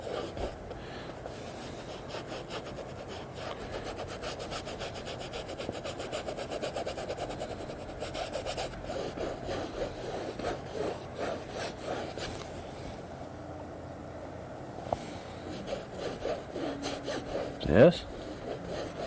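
A stiff brush scrubs acrylic paint across canvas in a landscape painting, a steady close rasping back-and-forth sound lasting throughout, with a faint louder knock near the end.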